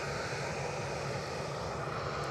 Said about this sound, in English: We've got an EasyJet Europe operated A320 from Milan.